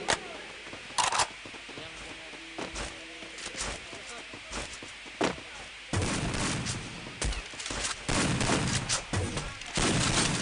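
Bomb blasts and gunfire in a Free Fire battle royale match, heard as bursts of sharp shots and heavier booms under a commentator's running voice, growing denser in the second half.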